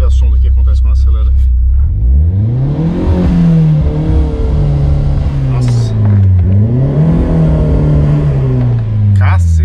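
A turbocharged Chevrolet Celta engine rises sharply as it is accelerated, holding a loud droning rev, dipping and climbing again in two surges, with someone talking briefly before and after.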